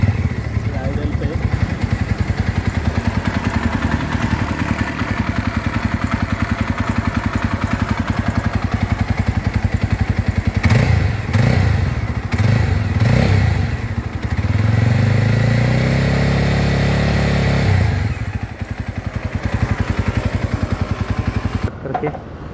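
A 2024 Jawa 42 motorcycle with a 13.2-litre tank idles steadily nearby, its engine thrumming with a slight clatter, while someone talks over it.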